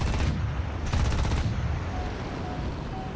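Aircraft cannon fire from an F-89D jet in War Thunder, a dense loud burst of rapid shots over constant engine roar, a second burst following shortly, then a sustained engine drone.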